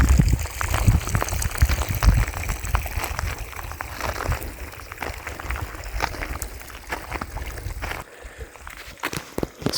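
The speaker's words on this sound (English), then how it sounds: "Water running from up above into a hole" Hot spring water in a desert pours from above into a hole and vanishes underground, a steady close rushing and sloshing trickle with spattering bursts throughout.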